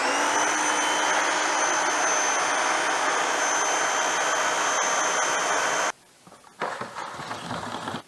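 An Active 2.0 electric pressure washer for car washing runs loud and steady with a constant high whine for about six seconds, cuts out abruptly, then restarts briefly with a rougher, slightly quieter roar.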